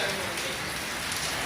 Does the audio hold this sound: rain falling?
yes